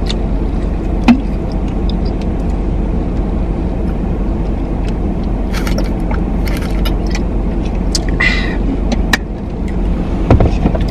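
Steady low rumble of a car interior, engine and road noise droning throughout with a few small clicks and taps close by.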